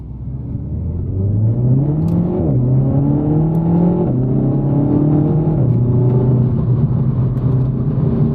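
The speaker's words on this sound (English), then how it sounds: "as soon as the car comes around that corner, you gun it" Renault Megane RS 300 accelerating hard on a winding road, its engine note climbing steadily through rising harmonics with a brief dip at a gear change around two seconds, loud and close inside the cabin, no talk.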